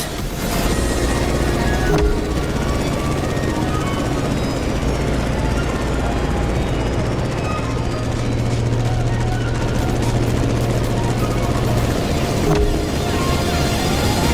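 A plane engine in flight in the racing game The Crew Motorfest gives a steady, loud droning roar with a low sustained hum and a rough, rattling edge, continuous throughout with no clear breaks.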